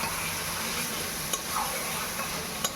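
Chicken frying and being stirred in a pan for kosha, a steady sizzle with occasional faint scrapes and taps of the spatula, moderately close with no talking.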